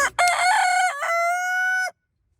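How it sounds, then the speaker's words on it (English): An ayam cemani rooster crows once, a loud, close cock-a-doodle-doo with a rising start and a long sustained final note, standing alone against a quiet background. "the rarest chicken breed on Earth, nicknamed the Lamborghini of poultry"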